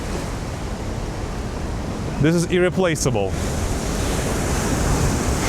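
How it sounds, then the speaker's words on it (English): Steady roar of ocean waves breaking at a sea lion colony on the Chilean coast, loud and continuous and mixed with wind, while someone speaks briefly over it. "Ocean waves and cries of the sea wolves."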